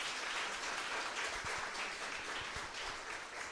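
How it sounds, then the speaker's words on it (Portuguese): A church congregation applauds during a sermon, a steady broadband wash of clapping from many hands filling the room at moderate level, with a few sharper low thumps standing out. "Pode aplaudir"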